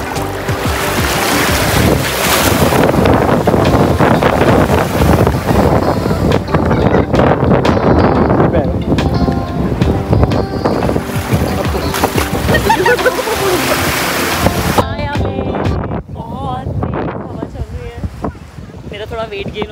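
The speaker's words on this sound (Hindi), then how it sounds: "इतनी तेज हवा चल रही है" Strong wind buffets the microphone on a boat day trip around Phi Phi Island near Phuket, a loud continuous roar with gusts, water and engine noise beneath; a voice talks briefly under it.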